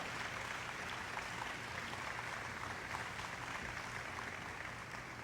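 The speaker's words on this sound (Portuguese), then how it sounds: "Agora dê a ele o melhor aplauso que já deu ao Senhor em muito tempo." A church congregation applauds in a long, dense, even wash of many hands clapping at once, sustained at steady loudness throughout with no pauses.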